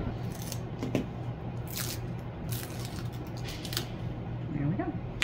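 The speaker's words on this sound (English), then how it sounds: "we're gonna use a weeding tool to remove the protective film that's on the acrylic" A weeding tool lifts and peels protective film off laser-cut acrylic, with close, sporadic scratchy ticks and crackles over a steady background hum.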